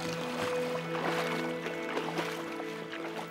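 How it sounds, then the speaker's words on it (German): Children paddling wooden fishing boats on water in Ghana: continuous splashing and paddle strokes with irregular knocks, against a busy background hum and faint voices. "Sie paddeln Boote."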